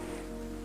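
A rain sound effect hisses steadily over a looping music remix, faint and constant, with the rain wash and sustained tones blended together and no talk.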